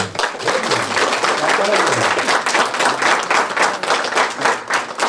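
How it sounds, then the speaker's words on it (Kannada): Audience at a health camp bursts into sustained applause, dense clapping from many hands filling the space steadily for several seconds, with voices murmuring underneath. "ಒಂದು ಚಪ್ಪಾಳೆ ಹೊಡೀರಿ"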